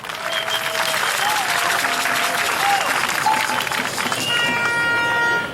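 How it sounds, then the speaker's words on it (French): A crowd at a Togolese political rally breaks into loud, sustained applause and cheering, with horn toots and whistles sounding over the clapping and voices shouting in the mix. "Je veux que vous acclamez pour eux aussi"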